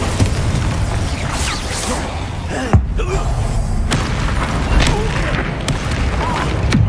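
A Bombarda blast and other spell effects in the Hogwarts Legacy game burst amid a busy mix of whooshes, thumps and sharp impacts, with one prominent hit near the middle over a constant rumbling backdrop.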